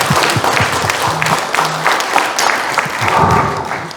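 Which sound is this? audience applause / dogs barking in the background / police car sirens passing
audience applause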